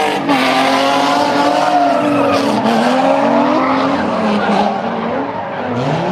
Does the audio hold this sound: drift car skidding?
yes